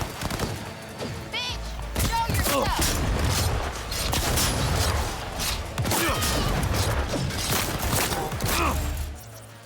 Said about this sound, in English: That shotgun blast has sent him flying.